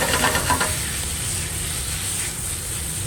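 Shrimp hitting a hot pan of peppers, giving a steady broad sizzle and hiss that stays loud and even throughout, with faint stirring near the start.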